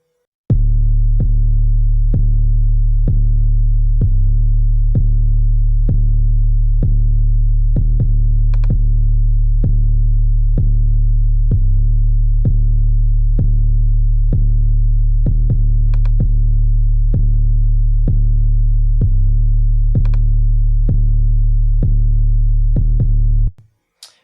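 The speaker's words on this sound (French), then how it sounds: "Écoutez bien ce qui se passe quand j'active la stéréo sur cette 808" Deep, booming stereo 808 bass hits repeat in a steady rhythm, loud and sustained with punchy attacks, playing alone without any voices.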